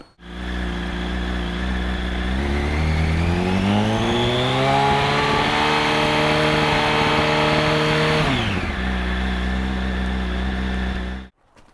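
A Yamaha R1 motorbike with a 12-volt system and a newly replaced generator fires up close by, then revs in one long, steady climb held for several seconds before dropping back to a loud, even idle; no talking.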